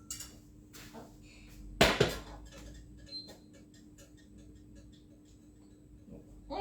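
Saucepan of cold mixture for pistachio raspberry twists set down on the stove to heat, a close metallic clunk and scrape midway through, surrounded by faint kitchen ticks and clinks.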